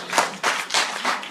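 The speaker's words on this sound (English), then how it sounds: "Let's give a big round of applause to everybody that has sat through this whole process" A small gathering at an elders' convening claps briefly, with about four distinct swells of hand clapping in quick succession, close and fairly faint, with no voices over it.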